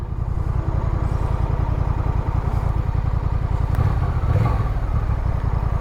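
A Honda Rebel 1100 motorcycle with stock exhaust runs close by with a rapid, even low-pitched thumping pulse, swelling slightly as it revs.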